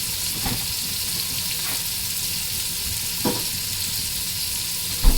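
Washed curry leaves dropped into hot oil give a steady, close sizzle with soft crackles and a couple of brief bursts as they hit the pan, no voices present.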